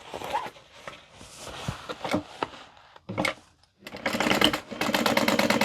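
A sewing machine stitches along the bottom of a handbag in short bursts of stitching separated by pauses. A longer, steady run of stitching follows at the end, with no talk over it.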